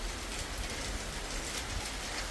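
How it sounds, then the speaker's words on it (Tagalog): Heavy rain pours steadily in the Czech Republic, a dense continuous hiss across the whole stretch with no talk, close and even in loudness. "Ang lakas ng ulan o."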